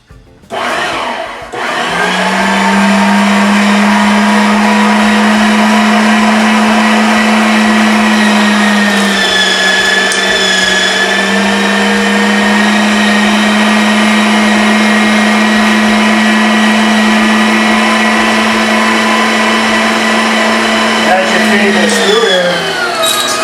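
An electric meat grinder runs loud and steady close by, grinding venison and pork with a continuous motor whine that holds for about twenty seconds before stopping.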